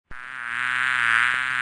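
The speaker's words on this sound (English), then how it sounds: "Bee." A bee buzzes in suddenly and holds a continuous, bright, whining drone that swells slightly louder over under two seconds, close and alone with no talking.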